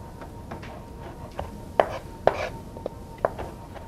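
A knife chops baby carrots on a board in several crisp, separate strikes, some louder than others, at an uneven pace against a quiet background.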